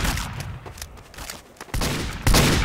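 Gunshots crackle in the video game Spy Warz, a quick scatter of sharp shots with a louder burst near the end, all within a few seconds.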